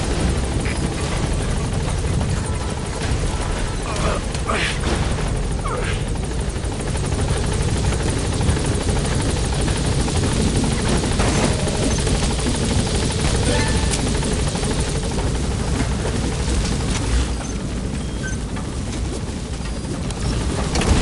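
Pequod, a helicopter in the video game Metal Gear Solid V, flies with a loud, steady rotor chop and engine roar throughout, close and continuous.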